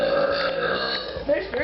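A long, drawn-out burp rumbles steadily for under two seconds, loud and close, with a brief rougher swell near the end.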